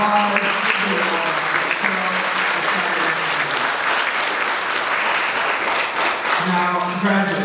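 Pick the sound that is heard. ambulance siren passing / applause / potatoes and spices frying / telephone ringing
applause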